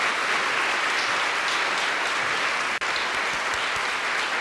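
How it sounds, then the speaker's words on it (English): Sustained applause from a gala audience honoring children, dense and steady clapping filling the room for several seconds with a brief dropout near the end. "How about a round of applause for these kids who've done such a good job tonight?"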